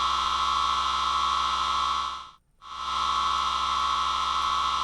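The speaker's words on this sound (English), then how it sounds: "It's just an annoying kind of gong-like sound." Airwindows Infinity infinite reverb plugin sustaining a loud, steady gong-like drone with dense ringing tones, briefly dropping to near silence midway before swelling back to full level.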